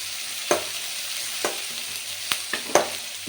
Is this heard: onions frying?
yes